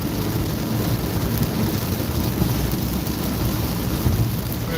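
A thunderstorm over San Antonio, Texas, with heavy rain pouring steadily and low thunder rumbling throughout. The wash of noise is loud and unbroken.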